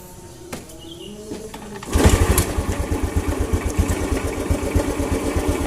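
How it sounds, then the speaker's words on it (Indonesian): A Honda Revo motorcycle with a weak charging circuit catches at about two seconds and then runs on at a close, steady idle with a rapid, even thumping pulse. Before it starts there is only quiet background sound and a few faint clicks. "Oke, motor bisa nyala."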